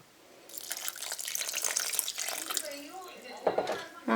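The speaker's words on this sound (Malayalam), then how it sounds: "കുറച്ചും കൂടി വെള്ളം ഞാൻ ഒഴിക്കുന്നുണ്ട് കേട്ടോ" Water poured into rava idli batter in a bowl, a soft trickling splash running for a few seconds at low level, with a voice speaking lightly toward the end.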